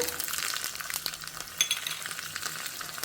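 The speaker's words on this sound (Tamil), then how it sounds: "தாளிக்கிற கரண்டியில் கடுகு கடுகு கொஞ்சம் போட்டிருக்கேன்" Mustard seeds and cumin sizzle in oil in a small tempering ladle, a soft continuous crackle with faint metallic stirring taps, close by and fairly quiet.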